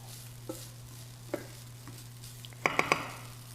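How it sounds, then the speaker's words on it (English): Soft sizzling of rice stir-frying in oil in a pan, with a few light scrapes and clinks of a utensil stirring, growing busier near the end. "Similar thing that we're doing here by stir frying it."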